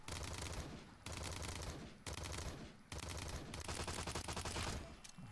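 Rapid automatic gunfire from a first-person shooter game, Afterlife, rattles in long sustained bursts with brief gaps between volleys, loud and dense throughout with no speech.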